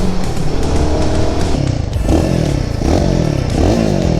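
Royal Enfield Guerrilla 450 motorcycle engine under way on the road, a loud continuous throaty drone whose pitch climbs and falls through several rev sweeps, with no voices over it.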